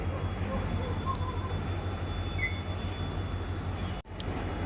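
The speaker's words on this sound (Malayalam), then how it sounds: "ഈ ട്രെയിൻ മുന്നോട്ട് പോവുക കണ്ടോ" A train carrying rails moves forward with a sustained, steady high-pitched squeal from its wheels and a constant low rumble, close and continuous.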